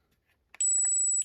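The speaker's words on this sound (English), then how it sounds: "There's beep level 1, which is darn loud" A single loud, sustained high-pitched electronic tone from a PETAVERN G5 dog training collar on its first beep level, preceded by a few faint button clicks, lasting about half a second.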